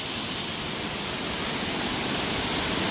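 A waterfall in Talawade, Devgad, swollen after heavy rain, roars as a loud, steady, dense rush with no break, close by and unbroken throughout.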